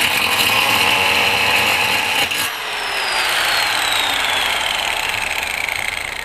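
A power tool cuts a notch into the metal of a Weber Smokey Mountain smoker, producing a loud, harsh grinding whine that briefly dips near the middle, then carries on as the motor's pitch slowly falls.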